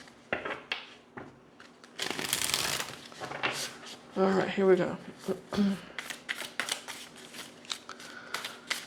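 Tarot cards are shuffled by hand in quick riffling bursts and soft slaps, close and crisp, with a brief spoken line midway.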